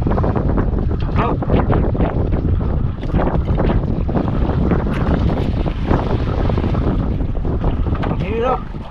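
Strong wind buffets the microphone out on the open sea aboard a fishing boat, a steady loud roar with gusty rumble and water wash running throughout, with voices faintly mixed in.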